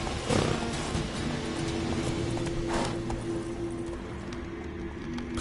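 Horse galloping in Witcher 3: Wild Hunt, with a steady muffled run of hoofbeats under a low ambient drone, fairly faint and without talk.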